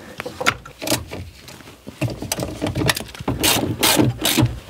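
Ratcheting clicks and mechanical clatter come from tightening work on a Ford Mustang, loud and close in irregular bursts with no talking.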